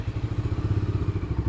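A Bajaj Dominar 250 motorcycle idles up close with a loud, even, rapid thumping pulse that stays steady and unbroken throughout.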